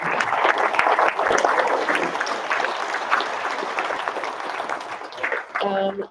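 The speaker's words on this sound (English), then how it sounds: "let's give them another round of applause" Applause from a banquet crowd fills the room with a dense, continuous patter of clapping that thins near the end as a voice starts speaking.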